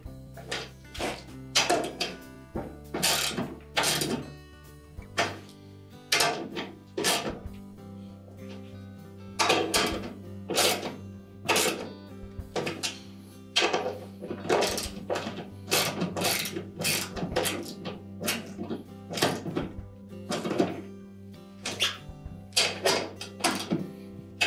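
Bolts on a Whirlpool washer being tightened with a hand tool, giving a long run of sharp ratcheting clicks and metallic knocks in uneven bursts, close and fairly loud.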